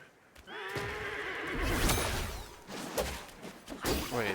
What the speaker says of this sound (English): At least they sound like horses.